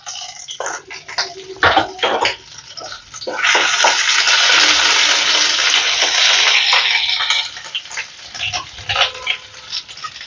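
Crushed ginger and green chilli hit hot tempering oil in a pan, setting off a loud, sustained sizzling hiss for several seconds amid kitchen clatter and clinks before and after.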